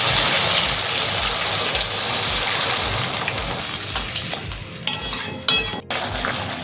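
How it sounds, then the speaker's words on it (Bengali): Water poured into fried spice paste in a pan for a chhana bora dalna curry, a sustained gushing splash that fades, then a few sharp metallic clinks of utensils against the pan near the end. "এবার এর মধ্যে জল দিয়ে দেবো"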